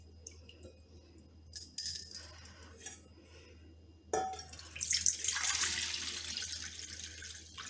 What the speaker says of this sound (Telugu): వాటర్ పోసుకొని మనము ఒకసారి చేతు వేళ్లతో బియ్యము పగలకుండా ఇలా ఒకసారి కడుక్కోవాలి